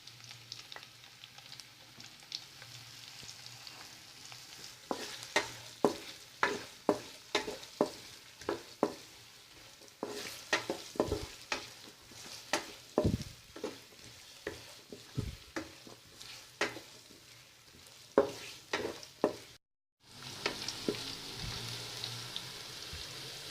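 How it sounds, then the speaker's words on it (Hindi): Onions fry in hot ghee with a steady, soft sizzle, punctuated by repeated sharp stirring scrapes and clinks at irregular intervals, close up and fairly quiet, with a brief dropout near the end. "घी गर्म हो जाए तो इसके अंदर प्याज डाल दें।"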